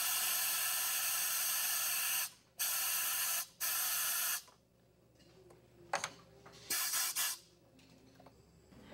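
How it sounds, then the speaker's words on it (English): A scuba regulator's second-stage purge valve, tested during manufacture, lets out strong, steady bursts of hissing air. The bursts are broken by brief cutoffs, then the hiss gives way to quieter mechanical clicks and short spurts. "The second stage goes through tests to make sure the purge valve works properly and that there are no leaks."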